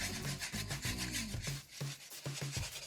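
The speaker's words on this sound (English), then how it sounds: "we're just gonna whisk that together and heat it up for a little while to let it fully combine" A whisk works through a sauce in a pan while it heats for a chicken pot pie casserole, giving steady, close scraping and swishing strokes in a quick, repeated rhythm with no talking.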